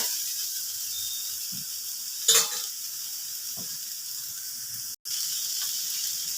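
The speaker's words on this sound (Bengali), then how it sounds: "এই যে এবারে আমি ভেজে রাখা বেগুনটা দিয়ে দিচ্ছি" Fried eggplant tipped into a hot pan for a greens dish, giving a steady bright sizzle with a sharp clatter early on and a momentary break before the frying hiss resumes.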